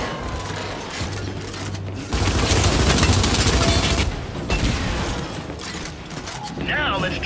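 Gears 5 tutorial gunfire: a dense, loud burst of weapon fire from about two to four seconds over mechanical game noise, with a voice speaking at the end.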